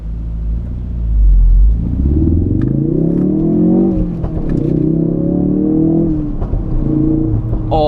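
A 2017 Ford Focus RS in sport mode accelerates hard from inside the cabin, its engine rumbling low and rising in pitch through several pulls, with gear changes dropping the note before it climbs again, loud and continuous.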